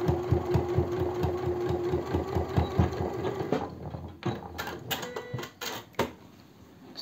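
A domestic sewing machine stitching the hem of a simple house dress, a steady rapid mechanical thumping for a few seconds, then stopping, followed by fabric handling and clicks.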